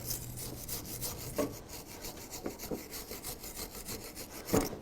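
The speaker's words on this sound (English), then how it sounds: "just clean that up with a wire brush" Wire brush scrubbing corrosion off brake parts, a faint rapid back-and-forth rasping of short repeated strokes, close but quiet, with a couple of light knocks and no talk.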